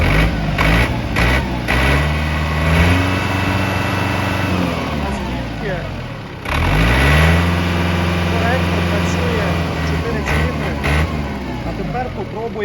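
A used Japanese Yanmar FX285 tractor with 1,228 engine hours starts up and runs close by, a loud diesel chug that revs up and settles twice, while someone talks over it.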